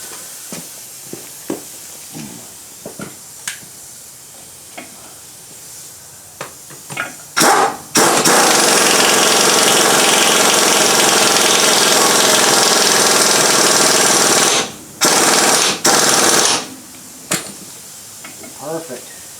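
Scattered clanks and taps of work on a Dana 30 axle give way to a loud, sustained impact or air tool burst of about seven seconds while parts are tightened back in, followed by two shorter bursts; a person talks intermittently.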